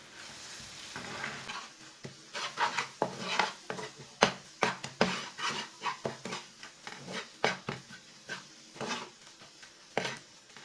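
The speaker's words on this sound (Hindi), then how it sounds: "अंडों को अच्छी तरह मिक्स कर लेंगे।" Eggs being mixed into fried spices in a pan for egg macaroni, a run of close spoon scrapes and clinks against the pan over a soft sizzle, irregular and busy.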